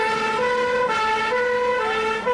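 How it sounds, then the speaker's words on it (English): A police car siren wails loudly and steadily as the vehicle speeds through the city of Bath, its sustained tone holding close and constant throughout. "We're actually speeding through the city of Bath with a police siren, and Ken is doing wonders for us."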